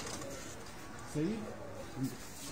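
Breeder pigeons at a loft in Faisalabad, a couple of short low coos rising over a steady background hush, fairly close.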